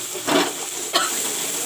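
Masala for a fish curry sizzles briefly in a hot pan, two quick hissing bursts as it is stirred, then a steady low fry with no voices.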